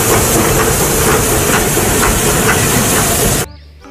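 A classic steam train lets out a loud, continuous hiss that holds steady for several seconds and then cuts off abruptly, leaving only quiet background.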